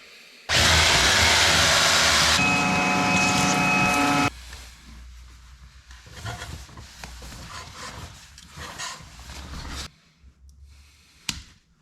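A power drill whirs loudly for about four seconds drilling a metal box for an external power socket, its whine steadying partway through, followed by quieter scraping and handling noises.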